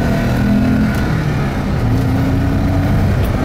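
Volvo 264GLE with the PRV B28E V6 and manual overdrive gearbox pulling away in second gear, a loud, steady engine drone with rising harmonic tones, close and continuous, with no voices.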